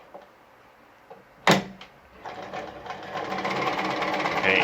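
An Adlerina 240A sewing machine stitches fabric, starting after a sharp clunk and ramping into a steady, close mechanical whir that grows louder as the stitching speeds up.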